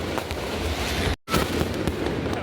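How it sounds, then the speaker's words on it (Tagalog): Dense crackling bursts of fireworks fill the air continuously at the start of a fun run, loud and close, with a brief sudden dropout in the middle before the popping resumes. "Fireworks!"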